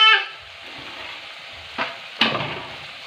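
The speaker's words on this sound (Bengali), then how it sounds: "আলুটা এবারে লাল লাল করে ভেজে নিয়েছি, এর মধ্যে দিয়ে দেবো একটা শুকনো লঙ্কা, দুটো তেজপাতা, একটু গোটা গরম মশলা" Potatoes sizzling in hot oil in a pan as dry chilli, bay leaves and whole spices are added, a steady soft fry with a couple of sharp crackling bursts as ingredients drop in.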